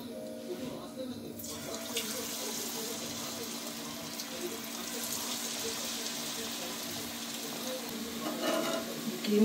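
Manchurian balls sizzle in hot oil with a steady, busy frying hiss, joined by intermittent light clatter and a watery, sink-like wash throughout; the sound grows slightly louder near the end.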